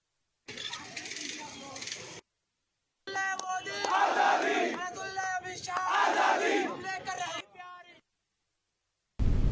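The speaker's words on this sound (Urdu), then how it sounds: "مرکزی حکومت سے CAA سے دستبرداری کا مطالبہ کرتے ہوئے نعرے بازی کی گئی۔" A crowd of protesters chants slogans against the CAA in loud, rhythmic bursts of many voices, separated by short silent cuts.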